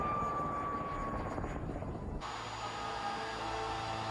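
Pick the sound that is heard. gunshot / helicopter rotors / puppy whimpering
helicopter rotors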